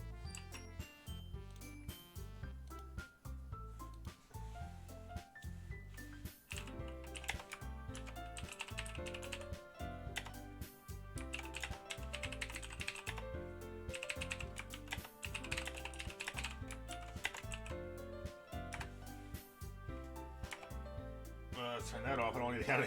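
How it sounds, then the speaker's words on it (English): Computer keyboard typing clatters close and fairly loud as rapid, irregular bursts of keystrokes, with a few mouse clicks, running under a person talking and a steady background music bed. "I don't need to hear my typing twice."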